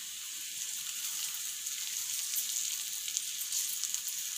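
Stuffed brinjal frying in oil in a pan, giving a steady, close crackling sizzle with fine spatters throughout, no voices.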